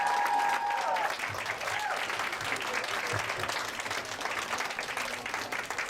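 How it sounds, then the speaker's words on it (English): Audience applause for standing students at a closing ceremony, a steady dense round of clapping from a crowd, with a voice briefly audible at the start. "let's give all of them a big round of applause"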